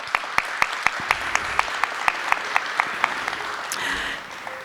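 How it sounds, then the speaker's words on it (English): Audience applause for the parents at a university honors college graduation ceremony: a steady run of sharp, evenly spaced claps rising out of a broad crowd wash, filling the hall and tapering off near the end. "please let us give a round of applause for the parents"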